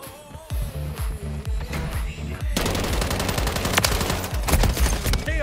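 Rapid bursts of automatic gunfire, loud and continuous, with heavier booming shots early and dense rattling fire later, from Call of Duty: Modern Warfare 3 (2023).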